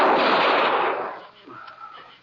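A loud gunshot in a Western radio drama, its blast rolling into a long, noisy echo that fades over a couple of seconds, then gives way to faint scuffling and quiet background sounds.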